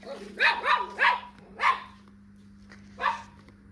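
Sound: dog barking

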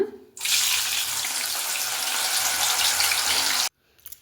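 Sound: spicy field beans (avarekalu) frying in oil

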